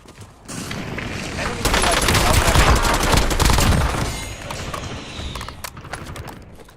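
Dense gunfire in Call of Duty Warzone on the Verdansk map, a sustained barrage of shots and impacts building to a loud peak mid-clip and then tapering off, with voices talking over it.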